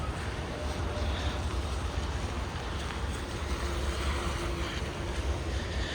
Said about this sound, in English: Just pouring rain.